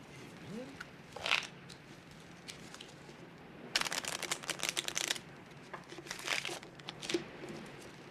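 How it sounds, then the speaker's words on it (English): Playing cards shuffled at a bridge table aboard a ship, quiet riffling bursts with a longer rapid flutter in the middle and scattered soft snaps and taps around it. "You can shuffle the cards, Mr. Poirot."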